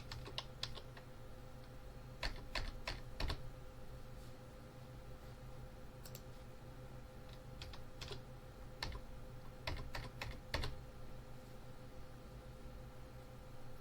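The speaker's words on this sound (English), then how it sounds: "type in the X coordinate and the Y coordinate, making sure you get them the right way round" Someone types coordinates on a computer keyboard, with soft, close keystrokes falling in short irregular clusters and pauses over a faint steady background hiss.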